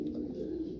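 A racing pigeon, second-place winner of a 150 km race, gives a low, soft coo, a brief close throaty murmur lasting under a second.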